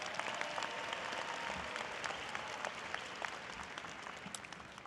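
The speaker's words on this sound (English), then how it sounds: "So let's give you guys a round of applause." Applause from a large audience at a college commencement ceremony, a dense, sustained patter of many hands clapping in a big hall, fairly distant and steady, tapering slightly toward the end.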